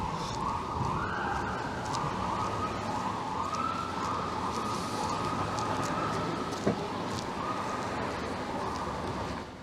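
An ambulance siren on a busy Toronto downtown street cycles through warbling electronic tones and beeps, loud and steady throughout, over constant traffic and city noise.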